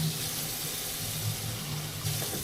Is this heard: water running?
yes